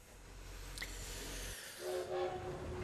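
Low rumble of a train pulling away in the video game The Lost Crown, followed by a steady whistle-like tone and hiss as it moves off, with no voices.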